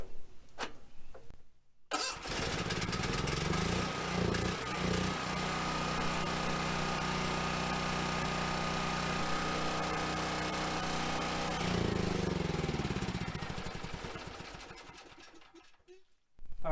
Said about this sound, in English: We'll go ahead and turn our gas on, pull out our choke, and fire it up.